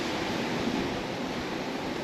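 Water at Paphos harbour in Cyprus, heard as a steady broadband wash of gentle surf and lapping, with some wind rumble against the microphone, continuous and even throughout with no voices.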